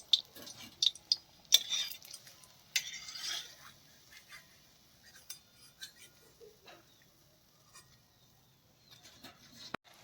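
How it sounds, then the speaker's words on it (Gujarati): Fried paneer pakoras lifted from a pan of oil, with light clinks of a metal slotted spoon against the pan and faint sizzling, in sparse close taps that thin out over a quiet stretch. "આપણા પકોડા તળાઈ ગયા છે, તેને કાઢી લઈએ"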